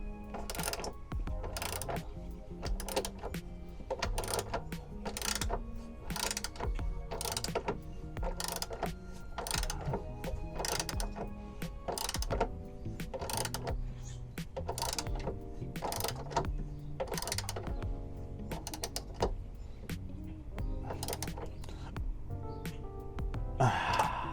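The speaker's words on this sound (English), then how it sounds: "Tighten up the top." A hand ratchet tightens bolts while an extended running board is installed on a vehicle, producing quick repeated clicking bursts in a steady rhythm, close up, with occasional breaths between strokes.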